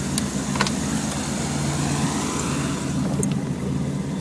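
A 1978 Chevrolet Corvette C3 25th Anniversary Edition idles steadily, its low engine rumble holding even and fairly loud for the whole stretch, with a few faint clicks above it and no talking.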